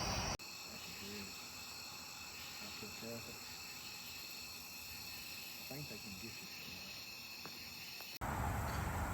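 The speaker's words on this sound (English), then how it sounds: "Some people call them leaf bugs, some people call them katydids." Katydids, also called leaf bugs, call at night near a campsite beneath the I-64 highway in Morehead, Kentucky, making a dense steady insect chorus with some faint scattered chirps throughout.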